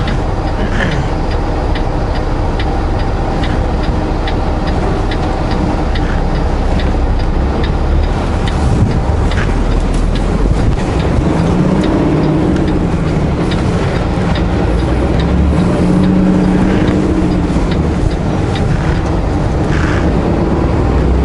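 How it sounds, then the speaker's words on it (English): A car driving down a hill on Highway 33 gives a loud, continuous rumble of road and engine noise, with faint rhythmic clicking running through it and no voices. "Car coming down the hill."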